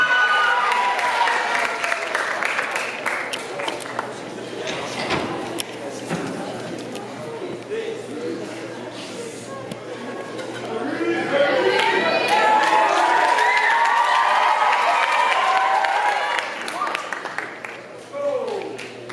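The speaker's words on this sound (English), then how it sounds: "Round of applause" An audience at a teacher appreciation night claps and cheers loudly, the applause rising and swelling across the room, then fading near the end.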